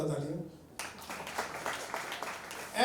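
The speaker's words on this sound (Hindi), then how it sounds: "जोरदार तालियां।" Loud audience clapping breaks out at a sanitary pad bank anniversary celebration, cutting in after a brief stretch of speech and continuing as dense, steady applause with voices mixed in beneath it.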